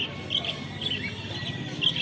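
Small caged birds at the Garia bird market, including cockatiels, give repeated high, bright chirps in short bursts over a low murmur of market background noise.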